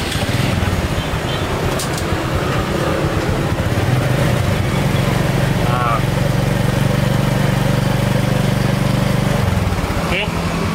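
A motorcycle engine, checked after its drive chain was adjusted and lubricated, starts and runs at a steady rough idle throughout, close and loud, with a voice speaking briefly near the start.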